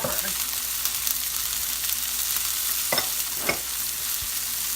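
Leeks seasoned with salt and pepper sizzle steadily in a frying pan for a vegetable frittata, with a continuous close hiss and a few soft clicks as they settle.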